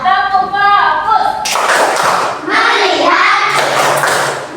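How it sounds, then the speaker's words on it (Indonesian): A primary school class doing the rhythmic 'tepuk fokus' clapping chant: a teacher speaks briefly, then many children clap sharp patterned bursts together, loud and close, mixed with their chanting voices. "Satu lagi, tepuk fokus."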